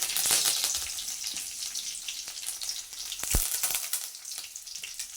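Garlic and curry leaves sizzle in hot oil for an okra kuzhambu, a steady crackling fry with sharp pops and spits near the pan. No one speaks.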